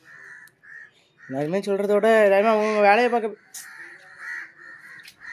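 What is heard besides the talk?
crow cawing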